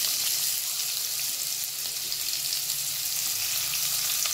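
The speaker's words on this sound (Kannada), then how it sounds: "ಸ್ವಲ್ಪ ಚೆನ್ನಾಗಿ ಫ್ರೈ ಆಗಬೇಕು ಈರುಳ್ಳಿ." Onions frying in a pan with curry leaves give a steady, dense hiss that holds evenly throughout, close and fairly loud, with no talking.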